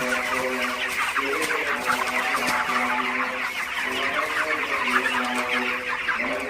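Many broiler chickens, about 2 kg each, clucking continuously, a dense, busy flock chorus close by with no voices.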